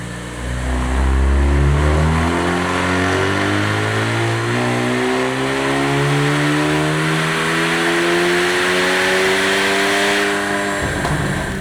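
A Kia Stinger 2.5T with a JB4 tune on map 2 and E40 fuel pulls hard on a dyno, its engine climbing steadily in a long loud sweep before lifting off abruptly near the end.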